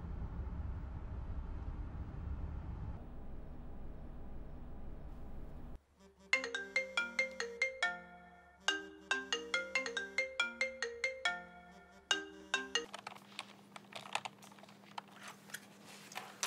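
A mobile phone ringtone plays a bright, repeating melodic pattern of short tones for several seconds, loud and alone with no voices, after a stretch of low rumbling background.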